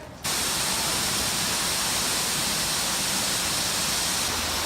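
Horsetail Falls in the Columbia River Gorge pours as a loud, constant roar of broadband water rush. It starts abruptly and continues unbroken, with no voices.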